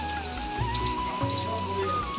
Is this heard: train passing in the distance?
no